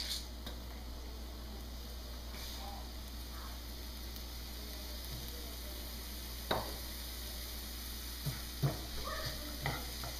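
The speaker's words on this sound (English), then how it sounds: "So I'm just sauteing this up in here just to kind of release the flavors" Vegetables for a bean stew sautéing in a pan, seasoned with pepper and salt: a faint, steady sizzle over a low hum, with a few sharp utensil taps near the end.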